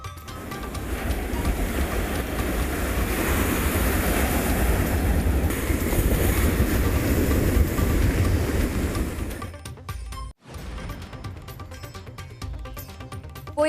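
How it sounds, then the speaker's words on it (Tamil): Rough, storm-driven sea at Cuddalore during Cyclone Ditwah, with waves three to five metres high crashing in a continuous loud roar that cuts out abruptly near the end. "டிட்வா புயல் காரணமாக கடலூரில் சீற்றத்தோடு காணப்படும் கடல். 3 முதல் 5 மீட்டர் உயரம் வரை எழும் கடல் அலைகள்."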